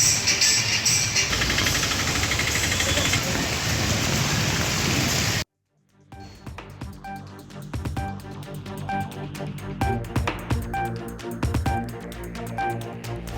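Heavy rain pours down in Ariyalur district's Senthurai, a dense loud hiss for about five seconds, then a brief silence before a quieter stretch with a steady hum and scattered knocks.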